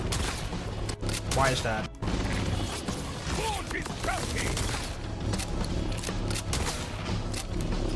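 Shotgun blasts and combat effects go off in the video game Borderlands 4, sharp bursts over a dense mix of game sound, music and mechanical noise, with a player's voice talking across it.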